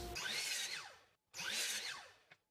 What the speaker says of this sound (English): Then you can rip the top width to 32 inches.